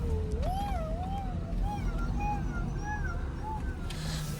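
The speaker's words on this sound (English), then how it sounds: "You meowing, Wells?" A cat meows several times in rising, wavering calls over a steady low rumble of an idling 2024 Tremor on 37-inch tires.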